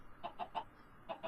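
Chickens cluck in a video game, a few soft, quiet clucks in a quick cluster followed by a brief pause and two more.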